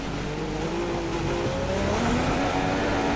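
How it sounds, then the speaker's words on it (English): Formula One car in the F1 2016 racing game locking its brakes, a loud engine whine dropping in pitch under deceleration with a faint tire squeal throughout. "Bit of a lock up on the brakes."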